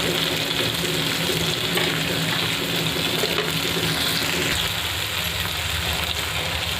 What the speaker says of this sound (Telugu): తర్వాత టమోటో కొంచెం బాగా బాయిల్ అయిన తర్వాత వాటర్ యాడ్ చేస్తున్నాను